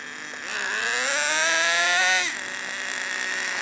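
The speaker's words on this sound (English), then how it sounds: "I'm going to let it idle for a while and punch the throttle and listen to what the engine does" A nitro engine in break-in idles with a thin, buzzy whine, then the throttle is punched and it screams up in pitch for about two seconds before dropping back to a steady idle.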